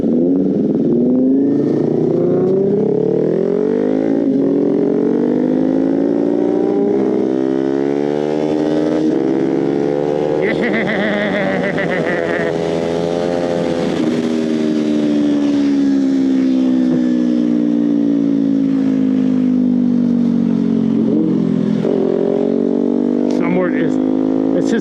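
A Kawasaki Ninja motorcycle engine revs hard, its droning tone sweeping up to a high pitch and easing back down, loud and continuous throughout.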